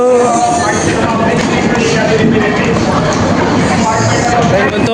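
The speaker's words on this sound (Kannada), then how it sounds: "ಟ್ರೈನ್ ಬಂತು, ಹತ್ಬೇಕೀಗ." A train pulling into a station on a family trip toward Mantralayam, with a loud rumbling clatter that sits under nearby excited chatter and a busy crowd throughout.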